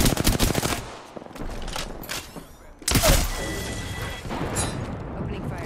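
Rapid video-game gunfire bursts up close, with loud booms and crashing impacts layered over a busy battle soundscape, and a voice talking intermittently beneath the shots.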